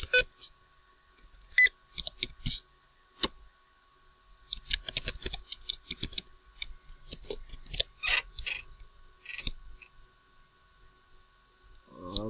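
Clacking keystrokes on a faulty computer keyboard, irregular bursts of sharp taps and clicks with brief pauses, fairly close and moderately loud, with no speech.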